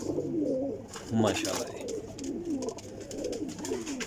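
Pigeons coo in soft, repeated rolling phrases close by, fairly quiet, with someone speaking briefly over them.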